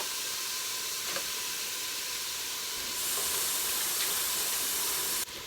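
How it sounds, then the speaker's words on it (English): Ground beef cooks in a pot with a steady, even sizzle and hiss, loud and continuous throughout, brightening slightly partway through with no voices. "The meat is cooking now."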